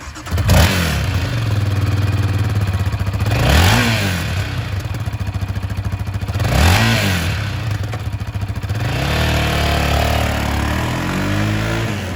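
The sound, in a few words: 2021 Yamaha Raptor 700R SE sport quad ATV engine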